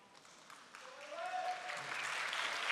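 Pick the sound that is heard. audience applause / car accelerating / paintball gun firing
audience applause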